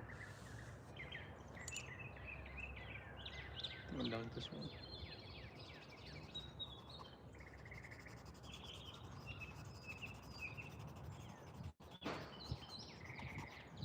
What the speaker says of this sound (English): You guys hear the birds just singing their hearts out.